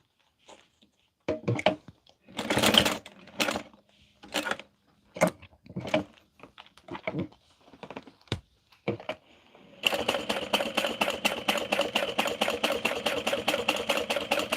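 A sewing machine stitches fabric in a steady rapid run for the last few seconds, after a stretch of scattered handling clicks and rustles, close and fairly loud.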